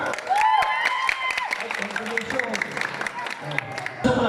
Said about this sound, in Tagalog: palakpakan natin Christine!